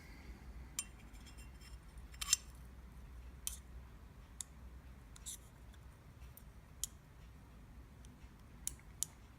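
Small, faint metallic clicks and ticks come at scattered intervals as a steel blade is set onto the bearing pivot of a Grimsmo Norseman folding knife during reassembly, heard against a quiet, low background.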